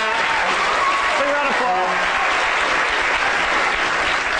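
A lecture audience bursts into a big round of applause, dense steady clapping filling the room throughout, with a speaking voice briefly heard over it.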